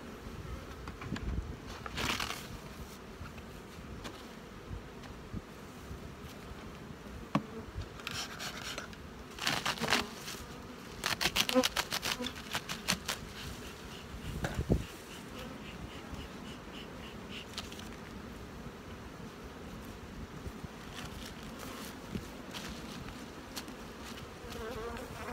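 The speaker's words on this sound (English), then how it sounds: "Box of bees." Honey bees buzz faintly around a box of bees in an apiary, a low steady hum broken by a few louder close passes and scratchy handling noises.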